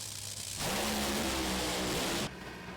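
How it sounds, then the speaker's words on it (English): A Top Fuel dragster in the final round of a Thunder Valley Nationals race bangs as the supercharger blows off at the top end: a sudden loud, broad roar bursting in and sustained for nearly two seconds before cutting away. "Mike Salinas' car knocks the blower off at the top end of the racetrack"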